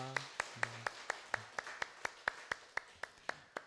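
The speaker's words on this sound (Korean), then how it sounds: "박수로 환영하겠습니다" Church congregation clapping in unison to welcome new members during a Sunday service, an even, regular beat of about four claps a second, faint and distant, with a soft tonal sound underneath at the start.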